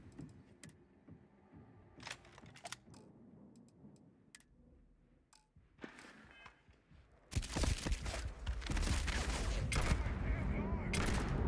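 Gunfire rings out during a firefight in the space game Starfield: sparse sharp shots and clicks early on, then a loud, sustained barrage of rapid shots and impacts in the final seconds.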